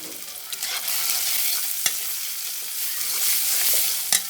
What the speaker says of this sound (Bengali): পেঁয়াজগুলো আমি একটু বাদামি কালার করে ভেজে নিব